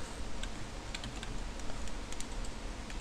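Computer keyboard arrow keys tapped in a quick run of light, crisp clicks over a steady background hiss.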